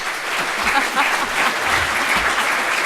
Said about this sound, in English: can you give a big round of applause for the panel?